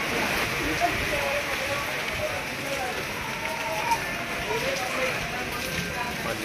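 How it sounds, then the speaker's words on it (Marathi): Heavy rain pours in a dense, continuous hiss of drops on surfaces, a steady close wash of sound with voices faintly under it. "मजबूत पाऊस आहे, मजबूत पाऊस."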